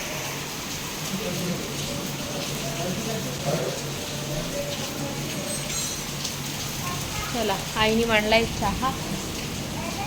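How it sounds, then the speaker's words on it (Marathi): Steady rain falls outdoors as a broad, even hiss that lasts the whole stretch, with someone talking over it throughout. "पाऊस सुरू झाला"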